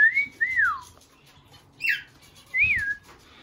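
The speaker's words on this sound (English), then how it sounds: "Come on, you whistle a little bit more for us?" A pet cockatiel whistles a few sweeping, rising-and-falling notes, close and clear, with a brief chirp between them and quiet background noise.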